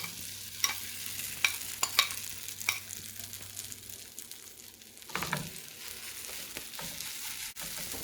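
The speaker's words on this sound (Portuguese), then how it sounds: "Daí é só abrir bem a massa na frigideira." Tapioca dough cooking in a greased frying pan on a stovetop, giving a low steady sizzle with scattered scraping and tapping clicks as the dough is spread out, then a louder scrape near the end.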